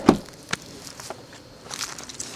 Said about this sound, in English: close the trunk